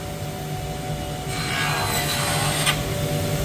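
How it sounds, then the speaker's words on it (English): Beech wood being ripped to rough width with a power saw in a kitchen remodel workshop, a loud steady whirring drone that swells slightly as the blade cuts, with no talking. "Getting ready to rip down our beech material to rough width"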